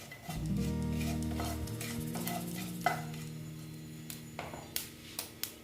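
Panch phoron spices sizzle softly in a small amount of oil, a faint crackle under a low hum, followed by several light clicks and taps of a utensil against the pan.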